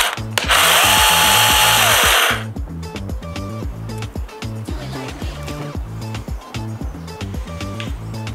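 A VEVOR cordless battery chainsaw whirs up loudly at close range, holds a steady high-pitched motor whine for about two seconds, then stops, leaving a busy rhythmic clatter of other sounds.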